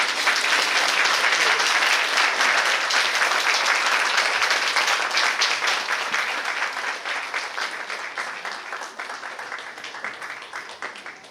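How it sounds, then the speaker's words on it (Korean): A church congregation at a Sunday service during a retreat claps together after a prayer, a full, even wash of applause that holds steady and then gradually thins and fades over about eleven seconds. "네, 박수로 건네해 주시면"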